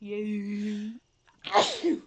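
A person lets out one sharp, close sneeze just after a sustained vocal sound and a brief pause, clear and loud in a quiet room.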